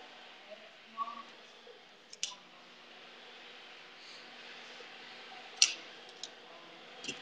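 Fabric for a churn dash quilt block is subcut into a 4.5-inch square, giving a few soft, sharp cutting clicks and scrapes spaced over a quiet background.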